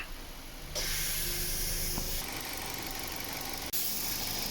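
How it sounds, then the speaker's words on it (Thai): The air conditioning compressor of a 2014 Nissan Juke runs loudly. Its evaporator unit leaks and the air is not cooling. A low hiss steps up into a louder, steady rushing hum after the first second. There is a brief dip near the end. "เปิดแอร์นะคะคอมมีเสียงดัง"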